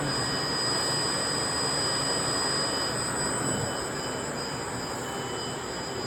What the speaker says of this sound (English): And now we're going to turn on the conveyor.